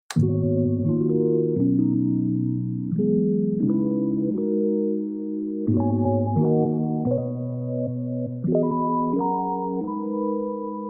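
A music sample slowed to half tempo, from 174 to 87 BPM, with mellow chords shifting at a relaxed, unhurried pace, steady and moderately loud.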